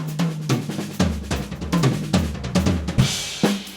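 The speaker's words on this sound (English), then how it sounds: "improve your paradiddle drum fills so that they sound like this" Paradiddle drum fill played on a drum kit, a loud close run of rapid alternating strokes across drums and cymbals in a driving rhythm, ending on a crash, with no voices.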